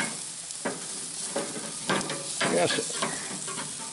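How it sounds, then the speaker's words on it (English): Ribs sizzling steadily on a grill outdoors as they are flipped, with scraping and shuffling of the meat over a continuous frying hiss, and a brief spoken voice. "And our ribs are ready to flip."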